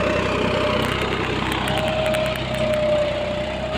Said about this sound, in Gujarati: અત્યારે ટ્રેક્ટર જે છે હાલ ચાલી રહ્યું છે